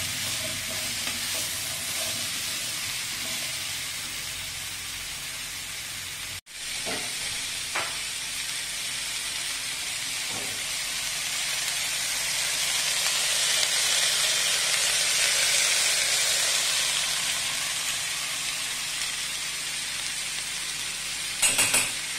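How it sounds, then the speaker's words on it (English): Vegetables for South Indian sambar frying in a pan, a steady close sizzle and hiss that swells louder midway, with occasional stirring clinks and a brief thump, heard alone. "we'll fry all these vegetables up for some few minutes"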